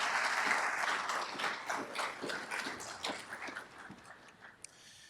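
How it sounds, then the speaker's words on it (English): Applause from attendees at a city's State of the City evening event, clapping dense at first and then thinning and fading over a few seconds, with a few scattered claps near the end. "Can we give our chamber folks a round of applause,"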